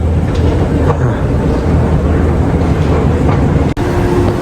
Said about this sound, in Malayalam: നമ്മുടെ സബ്വേ വന്നിട്ടുണ്ട്.